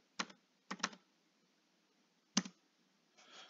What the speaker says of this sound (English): when you type up Jesus, this is what happens.